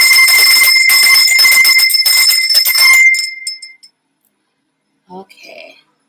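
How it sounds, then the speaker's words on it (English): A bell rings loud and near with bright, sustained metallic tones for about three seconds, then fades out, followed by a short faint clink after a pause. "Let me ring the bell."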